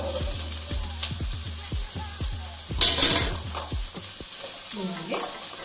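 Boiled cauliflower in a pan gives off a rhythmic series of scraping, clacking stirs over a low sizzle, followed by a brief louder burst of frying hiss near the middle before it settles.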